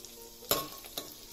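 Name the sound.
chopped ginger and green chilies sautéing in a pan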